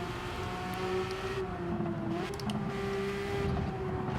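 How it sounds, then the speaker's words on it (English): Race car engine in the Gran Turismo 7 racing video game, a sustained steady high drone at moderate loudness, holding a fairly even pitch throughout with no talking. "I think the car sounds good as well,"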